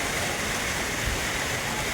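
A steady, dense rush of falling water from a waterfall in Pokhara, Nepal, constant and full throughout with no other sounds.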